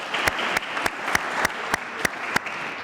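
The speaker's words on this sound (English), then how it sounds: "let's give them a round of applause as well" Crowd applause at a middle school ribbon cutting ceremony, a continuous moderate clapping wash with a sharp, rhythmic thump recurring about every 0.3 seconds through it.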